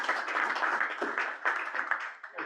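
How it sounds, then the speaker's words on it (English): Audience applause at a food web planning meeting in southeast Iowa, a dense, steady patter of many hands clapping together throughout, moderately loud with no talk over it. "another round of applause for Carol"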